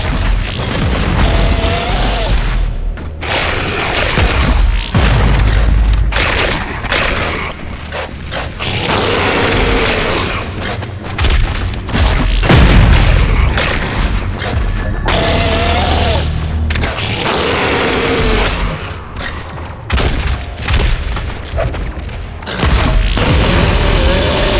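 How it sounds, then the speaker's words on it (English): Turret fire and explosions in the video game Doom Eternal: dense, loud booms and blasts with mechanical rumbling, nearly continuous and rising in bursts throughout. "You can use both turrets to clear a path."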